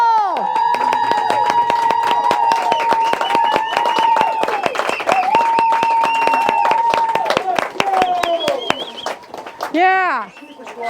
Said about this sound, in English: Let's cheer for some people.